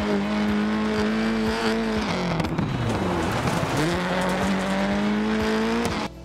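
A modern rally car in WRC 10 tears along a gravel stage, its engine droning and revving steadily with pitch dips through shifts and a continuous gritty rumble of tires on loose stones.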